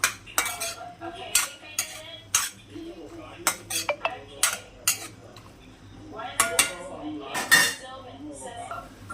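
A spoon scraping and clinking against a metal pot while an eggplant and prawn curry is stirred, irregular close knocks and scrapes over a quiet background.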